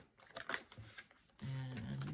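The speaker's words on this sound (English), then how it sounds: "Sometimes it takes a couple of shuffles to get the right card." Tarot cards shuffled during a Virgo reading make a rapid run of crisp papery flicks and taps, followed by a steadier low hum that carries on to the end.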